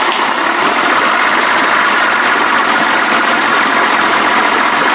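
A 1992 Johnson 60 hp outboard runs steadily with a silencer fitted, a continuous close, loud buzzing drone with no breaks and no talking.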